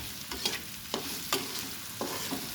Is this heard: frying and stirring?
yes